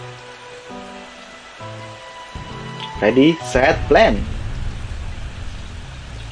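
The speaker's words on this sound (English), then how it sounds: "Oh, it's actually raining." Steady rain patters through the It's Raining Seeds mini-game in Plants vs Zombies, a soft wash under game tones and effects while a person speaks.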